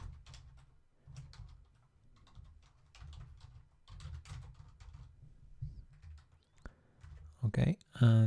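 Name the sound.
typing on computer keyboard while writing code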